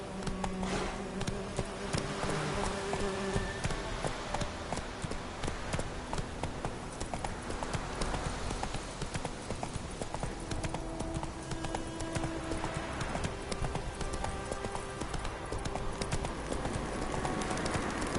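A horse gallops in The Witcher 3 video game with rapid, continuous hoof clip-clops over a busy ambient bed of buzzing insects, steady throughout.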